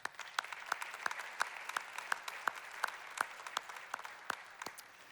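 Applause from a small audience at a volunteer appreciation event, with scattered, uneven claps coming from a handful of people rather than a large crowd. It is moderately faint and plays alone, with no talking over it.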